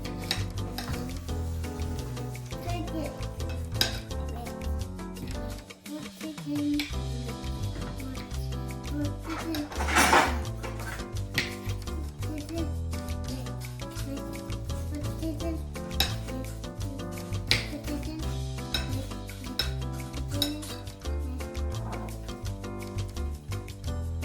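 Kids stir Filipino fruit salad in a bowl, with steady scraping and rubbing of a spoon against the bowl, occasional clinks, and voices talking nearby throughout.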